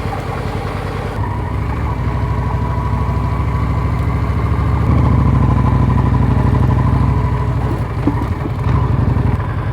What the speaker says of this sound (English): Bike's still running.